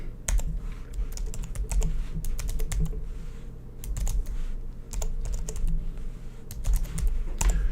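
Someone types on a computer keyboard in quick irregular bursts of sharp key clicks, close up over a low steady hum, with no speech.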